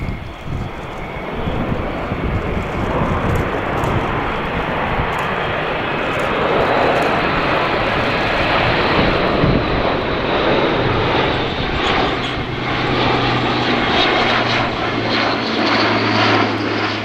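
An Airbus A400M turboprop military transport flies past at the RIAT 2016 airshow, a loud, sustained roaring propeller drone filling the whole stretch, with a low engine tone emerging as it passes.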